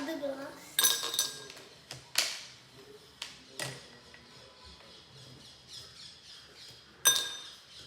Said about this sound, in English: I'm going to put the ice in the other glass